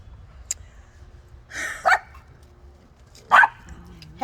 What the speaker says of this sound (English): That's why they're barking. My neighbor's dogs always come over here.